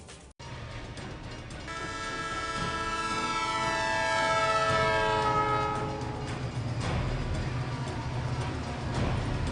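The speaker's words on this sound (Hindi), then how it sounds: "ट्रेन आई और निकल गई" A train passes near Azadpur railway station in Delhi, sounding a long, loud, sustained horn blast that swells and then fades, followed by the rumble and clatter of cars rolling past.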